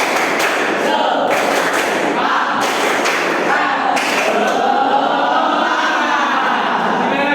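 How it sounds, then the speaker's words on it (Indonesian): A classroom of pupils stands and performs the 'tepuk semangat' spirit clapping routine, with rhythmic bursts of group claps and thumps alongside chanting voices, loud and close, with no words picked out. "Kita melakukan tepuk semangat."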